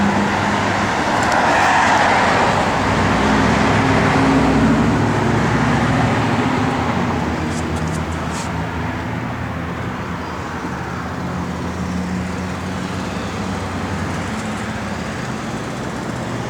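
A 1970 Plymouth Cuda engine idling steadily, a loud continuous low rumble close by with no break, easing slightly after the first few seconds.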